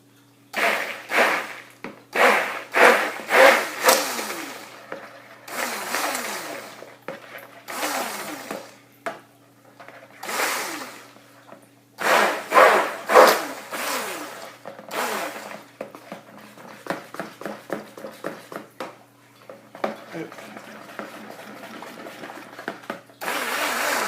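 A stick blender whirs through soap batter for Halloween soap in repeated loud bursts of a few seconds each, stopping and starting with short gaps between pulses.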